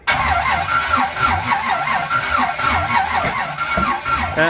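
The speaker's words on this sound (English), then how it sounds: "Well, we've been turning it over for a couple of minutes." A worn work truck engine with its timing off cranks over and over in a steady rhythmic whir, close and loud, straining without settling into a clean run.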